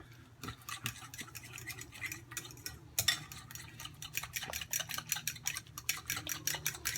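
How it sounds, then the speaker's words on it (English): A fork mashing and stirring a thick lime and chipotle pepper sauce in a bowl, with steady rapid scraping and clinking strokes, close up, growing denser and more rhythmic partway through, with no talk. "I'm using a fork because I know we have the chipotle pepper in there."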